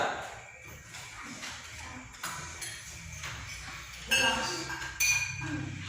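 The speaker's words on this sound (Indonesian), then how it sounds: "Gelas, cara menghasilkan bunyinya dipukul." A drinking glass struck during a classroom demonstration gives a few bright, short clinks spread across several seconds, under steady room noise and murmuring voices.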